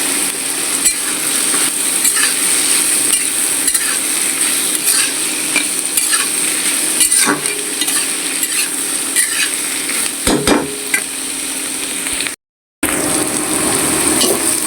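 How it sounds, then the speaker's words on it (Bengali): Bitter gourd (karela), cooked with potato and onion, stir-fried in a pan: a loud, steady sizzle and frying hiss runs throughout, with occasional scraping and stirring knocks of a utensil against the pan. "আর এবারে করলা ভাজি বসা দিয়েছি।"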